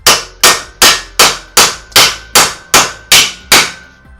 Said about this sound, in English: Give it a couple whacks and it should come out.